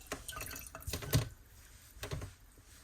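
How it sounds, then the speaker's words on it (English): Water drips and splashes from wet fabric being squeezed over water during a marker painting session, a few soft close splats with one sharper drip in the middle. "you just want to kind of squeeze the water out so it's not"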